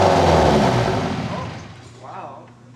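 An old car that sat in a field for ten years revs loudly after being coaxed into starting, the engine roar swelling then fading, with excited voices talking over it.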